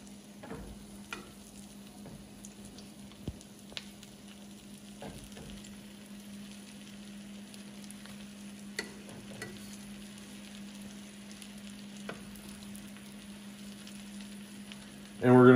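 Morel mushrooms fry in a pan with a low, steady sizzle that runs throughout, broken by a few light clicks and taps, with a louder clatter at the very end.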